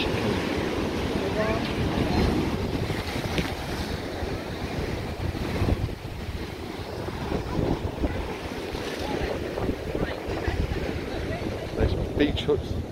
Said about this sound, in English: the sea is very rough. It's a very windy day.